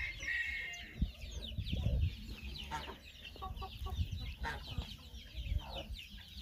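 Farmyard chickens cluck near the microphone in a rural Goiás setting, with repeated short calls overlapping over a low background rumble.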